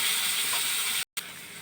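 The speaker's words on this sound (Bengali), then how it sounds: "পেঁয়াজ আর লঙ্কাটা দিয়ে ভাজবো।" Onion and green chilli sizzle in hot oil with cloves, cinnamon and black pepper for methi chicken. A steady, faint hiss continues, broken briefly by a short gap.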